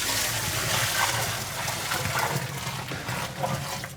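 Large volumes of water, about 18 litres, pour into a bakery mixer for croissant dough, a steady gushing, splashing stream that stays fairly even and close throughout.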